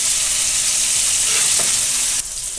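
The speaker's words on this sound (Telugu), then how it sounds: "సో నెక్స్ట్ మళ్ళీ పోపు దినుసులు వేస్తున్నామండి" Tempering spices such as chana dal and mustard seeds crackle and sizzle in hot oil, a loud continuous frying hiss close up with a few pops, easing slightly near the end.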